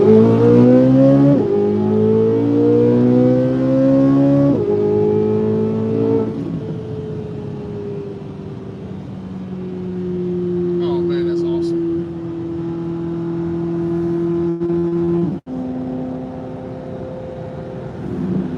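A Corvette Z06 exhaust accelerates hard on the highway, its pitch climbing and dropping with each gear shift before settling into a steady cruising drone.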